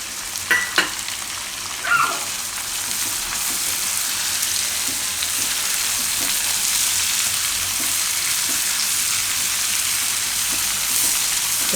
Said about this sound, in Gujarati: હવે આપણે એમાં નાખી દઉં ટમેટાં.